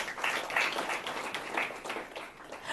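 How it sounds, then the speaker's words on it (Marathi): A Marathi Christian congregation claps together in thanks, a soft, distant patter of many hands rising and falling for a couple of seconds. "टाळ्या वाजून देवाला धन्यवाद देऊया."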